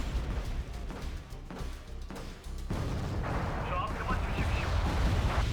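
Artillery fire in the real-time strategy game Wargame Red Dragon, heard as dense, continuous rumbling booms and distant impacts, with a busy battle bed underneath and a voice talking over it.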